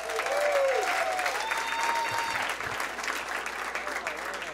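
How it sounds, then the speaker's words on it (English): A comedy club audience at the Comedy and Magic Club applauds comedian Chris Strait, steady dense clapping with scattered cheers and whistles filling the room for several seconds. "Big round of applause for Chris Strait, everybody."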